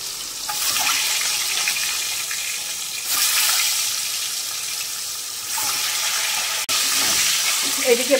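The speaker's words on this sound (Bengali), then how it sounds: "আর এখানে ডিমগুলো ভাজা চলছে" Eggs frying in a pan for an egg curry give off a loud, steady sizzle that runs throughout, with brief dips and an abrupt break near the end.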